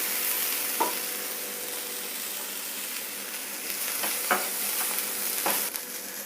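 Chopped onion, garlic and ginger frying in a pan, a continuous close sizzle with a few sharp scraping clicks from stirring, no talk.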